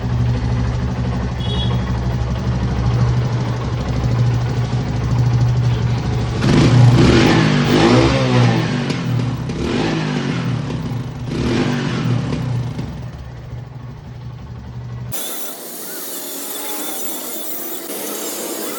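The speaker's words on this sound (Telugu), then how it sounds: "స్టాక్ సైలెన్సర్ది సౌండ్ ఎట్లుందో చూద్దాం." A motorcycle with its stock silencer revving, a loud continuous engine roar that swells in a few throttle blips mid-way, then settles back and cuts off abruptly into a thinner, quieter noise near the end.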